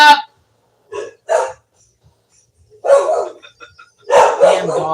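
Dogs bark in short separated bursts, a few loud close barks spaced over several seconds with quiet gaps between them, and no talking.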